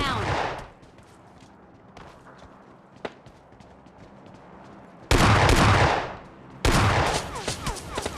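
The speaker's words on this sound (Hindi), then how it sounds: "हम कह रहे भैया साइड हो जाओ, गोली चल रही है।" Gunfire in the mobile battle royale game PUBG Mobile Lite, with a couple of loud, sustained bursts of automatic shots late in the clip after quieter stretches with an isolated crack and faint footsteps.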